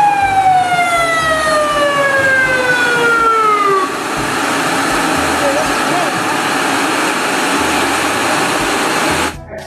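A toy police ambulance wails with a loud electronic siren that sweeps downward and then holds a steady warble for almost ten seconds before it cuts off abruptly.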